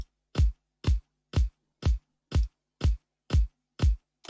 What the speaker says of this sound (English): So literally that is just the phase distortion by introducing the bands.